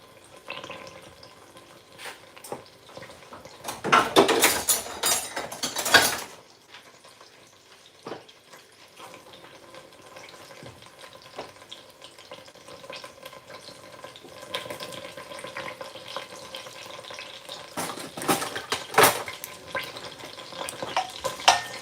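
Chopped onions for Ghanaian chicken stew frying in a pot, with bursts of loud sizzling and stirring that fade to a low crackle and then build again, heard close with no talking.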